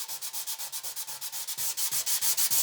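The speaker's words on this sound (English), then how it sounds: "Keep the circles nice and tight, keep them small. Medium pressure" A gouge on a gas tank is hand sanded in small, tight circles with medium pressure: a steady, rhythmic, close raspy scrubbing that pulses evenly about five times per second and grows slightly louder.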